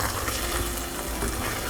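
Tomato, radish and green chili pickle fries in a pan while being stirred, a close, continuous sizzle with soft scraping and bubbling throughout, no voices.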